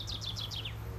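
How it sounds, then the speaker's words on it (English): Spring birdsong in the woods of Smolensk: a single bird gives a quick run of four or five bright, descending chirps, then stops, over a low steady background hum. "Amid spring birdsong in the woods of Smolensk"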